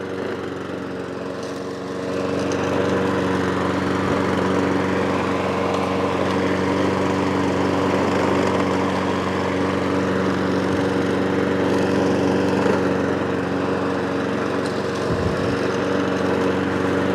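A Cobra lawnmower engine runs steadily on choke, a constant droning hum that settles in after a quieter first couple of seconds and holds without revving, heard alone and close by.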